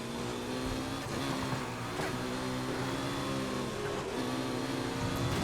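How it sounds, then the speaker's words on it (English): A car in Need for Speed Heat drifts through a corner under the handbrake, its engine a steady, loud, sustained drone with shifting pitch, close up and with no talking. "Tiny bit of drifting around that corner."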